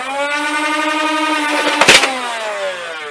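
An Adventure Force Alpha Auto 72 Nerf blaster spins its flywheels up to full speed, giving a steady, loud electric motor whine that holds and rises slightly in pitch, with a brief rattle near the middle.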